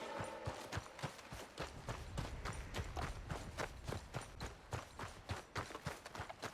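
Horse hooves clip-clop in Red Dead Redemption 2, a quick, steady run of hoofbeats close to the listener that carries on throughout.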